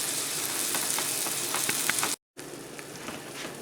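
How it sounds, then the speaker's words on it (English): Half a roll of premium pork breakfast sausage frying in a hot pan gives a steady, close sizzle with crackling pops, cut by a brief silent gap before the sizzling resumes. "I just took half a roll of regular breakfast sausage, premium pork sausage, and I put it in a hot pan."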